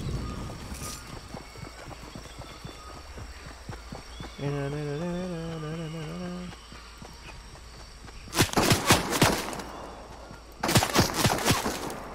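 Bursts of gunfire in Fortnite Chapter 3 Season 1, two sharp clusters of rapid shots near the end, after quieter footsteps and a short rising musical tone.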